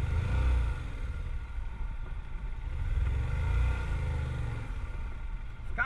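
A Yamaha motorcycle rides through a gate drill, its engine rumbling steadily up close as it slows and stops at each gate, with no talk over it.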